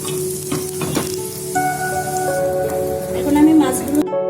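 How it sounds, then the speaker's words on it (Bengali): Pangas fish fries in oil in a frying pan, a steady close sizzle with occasional stirring scrapes and a clink, while a voice talks over it. "ফ্রাই প্যানে তেল দিয়ে দিলাম মাছটা ভালো করে ভাজার জন্য"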